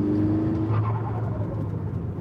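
Car engine revving close by, a loud throaty drone with a rising then falling pitch sweep, continuing as a steady engine rumble.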